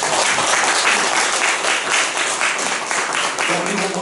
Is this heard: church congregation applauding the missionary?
yes